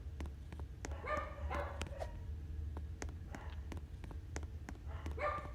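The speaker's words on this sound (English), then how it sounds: "It's just my dogs yelling for no reason at all." Dogs bark and yip in short, scattered bursts under a steady low rumble, with some yelps standing out near the start and end.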